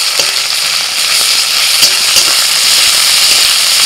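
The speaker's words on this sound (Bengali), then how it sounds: "রসুন আর আদা ভেজে নিয়ে" Garlic and ginger paste sizzles hard in hot mustard oil in a wok, a loud, dense, continuous frying hiss with scattered crackles and no voices.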